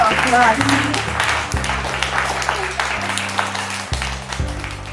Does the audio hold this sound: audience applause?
yes